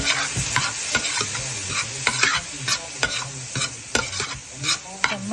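Kothu parotta being stir-fried with mutton curry, Chennai and Trichy style, with rapid rhythmic clanging of metal on the griddle over a continuous sizzle, loud and close.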